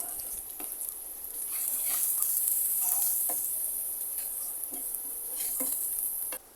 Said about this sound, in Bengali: এগুলো ভালোভাবে কষিয়ে নেব।